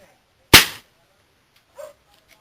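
A single sharp gunshot crack rings out, followed by a faint brief voice and quiet.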